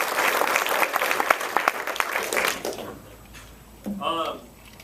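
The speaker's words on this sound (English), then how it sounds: "And you just applauded, made a bunch of noise" An audience at a film screening Q&A breaks into applause, a dense burst of clapping that fades after a few seconds before a voice briefly speaks.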